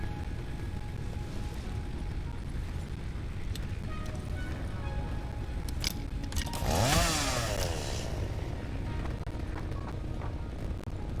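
A chainsaw cutting trees in the video game Satisfactory: a continuous engine drone, with a revving sweep that rises and falls near the middle, and no talk.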